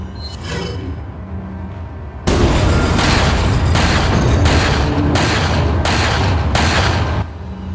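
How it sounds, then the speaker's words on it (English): A video-game flashbang goes off with a sudden loud boom, followed by a dense ringing roar pulsing in repeated bursts for several seconds, after quieter game ambience. "I'm gonna get a flashbang out to stun him,"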